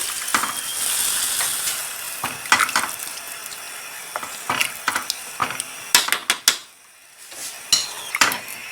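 Broth poured into a hot pan of sizzling onions for Algerian osbane, with a steady hiss broken by sharp scraping and stirring clatters, then a brief lull as the liquid settles before more utensil knocks.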